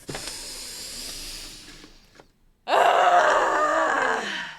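A person takes a deep cleansing breath: a soft airy breath fades out, then after a short pause comes a loud, hissing exhale with a groaning voiced edge that tapers off.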